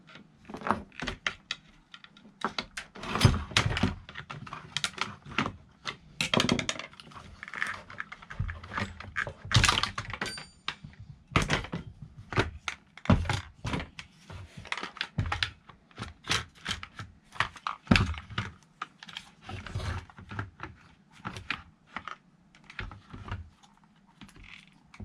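Parts are pried and clicked apart while a Stihl MS291 chainsaw is disassembled, a close run of irregular sharp plastic and metal clicks and snaps with brief pauses between them.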